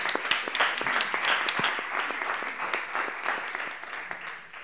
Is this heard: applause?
yes